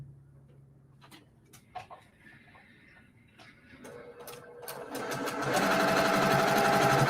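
A sewing machine stitches fabric for a quilt block, starting with scattered soft clicks and taps, then building into a loud, steady, fast mechanical whirr that runs close and continuous to the end.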